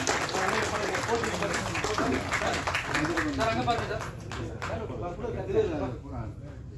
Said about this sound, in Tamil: ஒரு பலத்த கைத்தட்டல் கொடுத்துருங்க